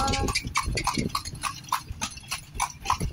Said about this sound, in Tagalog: Parang pagod na yung kabayo, no?